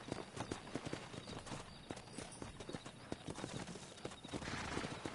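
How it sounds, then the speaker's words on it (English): Rapid hoof clip-clops from a horse in Red Dead Redemption, a steady clattering rhythm of sharp hits over ambient game sound. "Let's see if we can't wrangle some horses."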